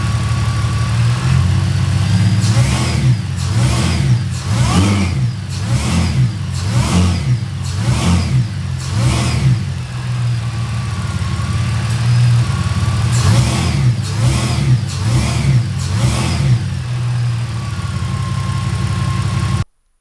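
Mercedes SLK32 AMG supercharged engine being revved repeatedly during a motor mount test, loud rhythmic bursts of revving rising and falling over a steady idle, close by with no talking.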